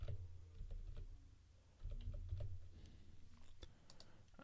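Keys tapped on a computer keyboard while entering a verification code, a quiet, irregular run of light clicks over a low steady hum, close and faint.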